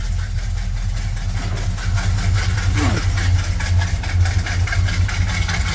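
A Chevrolet Monte Carlo engine idles steadily after a cold start, a constant close low rumble with no voices.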